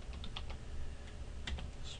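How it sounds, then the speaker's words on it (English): Keys clatter on a computer keyboard as a command is typed at a command prompt, with a quick uneven run of close, crisp clicks and no voices. "Then I'm going to type"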